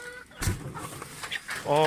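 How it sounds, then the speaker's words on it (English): Rescued ex-factory-farm hens cluck and squawk nearby in short bursts, with a sharp flap or scuffle and some rustling. "Poor chickens must be hot in this weather."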